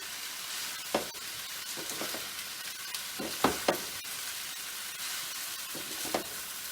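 Vegetable hakka noodles with peppers are stirred in a pan over high heat, a steady sizzle and hiss broken by several scraping strokes of a spatula against the pan, close and clear with no talk.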